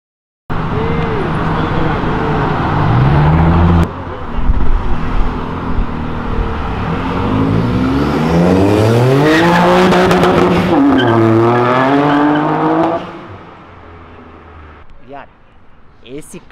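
A car with a raised rear spoiler passes close by on the road, a loud engine roar rising and falling in pitch as it goes past, with people talking over it.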